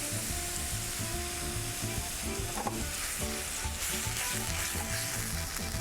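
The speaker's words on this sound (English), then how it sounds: "Let them sizzling, evaporate all the alcohol." Vegetables sizzle steadily with Pinot Grigio wine in a hot pan, a constant loud crackle with occasional stirring clatter and no voices.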